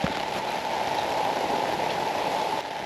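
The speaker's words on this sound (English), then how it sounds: "the rain has just gotten heavier again" Heavy rain pouring steadily outdoors in a yard with chickens, a dense continuous hiss of drops drumming on surfaces, loud and close with no talk.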